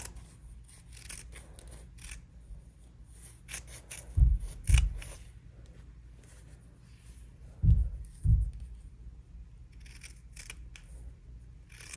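Scissors cutting strips from an acrylic-painted canvas collage, a quiet, close series of crisp snips, with two pairs of sharper cuts standing out over soft rustling.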